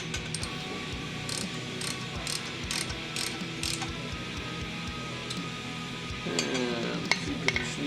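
Wrench tightening nuts onto exhaust pipe studs on a Harley Sportster, a series of soft, irregular ratcheting clicks and metallic scrapes close up in a quiet workshop.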